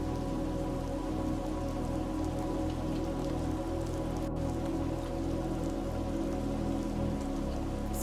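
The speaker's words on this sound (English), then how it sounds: "I love the rain effects on the mirror as well." Steady rain falling and pattering on surfaces inside the VR Chat video game, including rain running down a mirror; a continuous, even hiss with dense droplet texture and no voices.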